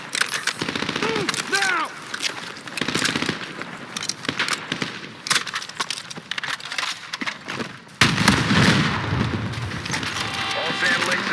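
Battlefield gunfire on an Egyptian battlefield crackles as dense, continuous machine-gun and rifle bursts, loud and close, with whistling and a heavier barrage near the end. Voices shout commands over the shooting.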